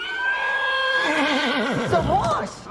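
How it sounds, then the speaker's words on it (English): A horse lets out a loud, close neigh, a high wavering whinny that drops and shudders toward the end. "The horse."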